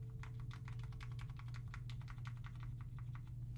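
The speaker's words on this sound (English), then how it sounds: "is this the keyboard that makes the thock sound I mentioned?" Rapid typing on a mechanical keyboard with a deep, muted thock character, a dense run of soft keystrokes close up and evenly paced, with no talking.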